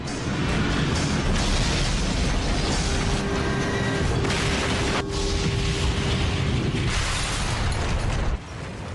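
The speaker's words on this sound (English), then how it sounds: "At 9:16 and 15 seconds, Flight 587 slams into the ground." Airliner Flight 587 slams into the ground, a sustained loud roaring rumble of impact and destruction with crackling bursts, continuing for several seconds before dropping off abruptly near the end.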